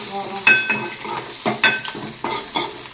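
Rasam simmering on the stove, with a soft bubbling sizzle and repeated light stirring and clinking of a utensil against the pot, close by.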